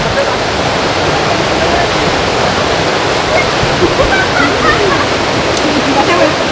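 Steady, loud rushing of a strong river current, a dense continuous roar with no pauses, heard up close.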